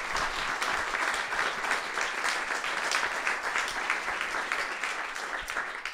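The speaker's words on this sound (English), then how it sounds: "I'm going to ask everyone to please clap for Kirsten" A concert audience at a show applauds for Kirsten in a dense, continuous wash of many hands clapping, steady and fairly loud throughout.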